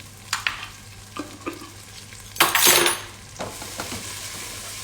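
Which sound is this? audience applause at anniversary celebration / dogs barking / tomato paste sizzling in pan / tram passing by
tomato paste sizzling in pan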